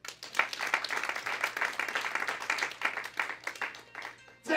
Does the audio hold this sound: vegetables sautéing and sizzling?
no